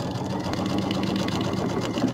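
A sewing machine runs steadily, stitching binding onto a fabric project bag, its close, continuous motor whir holding even throughout with no talking.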